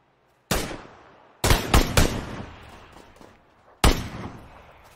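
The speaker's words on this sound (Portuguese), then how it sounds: "Tá atirando aqui." Sharp gunshots from the game PUBG ring out, one alone, then a quick burst of three, then another single shot, each with a booming echoing tail.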